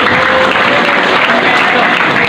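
Sustained audience applause at an Indonesian Nahdlatul Ulama anniversary gathering, a dense, steady wash of many hands clapping at close range that fills the whole stretch without a break.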